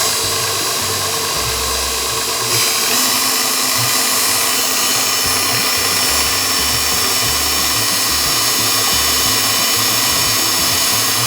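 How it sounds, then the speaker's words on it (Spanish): Electric mixer beating sugar, egg and yolks for pan de muerto dough, a steady loud motor whir with a rough, uneven low rumble throughout. "y comenzamos a batir."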